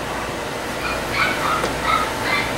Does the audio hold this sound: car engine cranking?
no